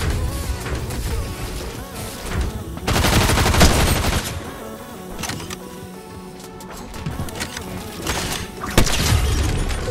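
Sniper and shotgun shots in Fortnite ring out as sharp, loud bursts amid dense game noise, with a heavy volley near the start of the stretch and another sharp crack close to the end.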